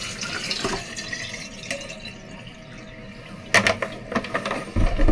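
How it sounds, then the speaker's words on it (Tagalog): Water trickles and splashes into a container during a refill at home in Japan, with faint clicks and handling knocks of the container near the end, close and fairly quiet. "Refill tayo ng ganitong tubig."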